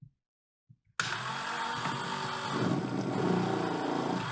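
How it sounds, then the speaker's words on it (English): A Ryobi P460KN rotary tool switches on after brief silence and runs at its slow speed, a steady close whine that grows slightly louder and rougher as it bites into the work. "I'm going to start the tool out slow like I always do"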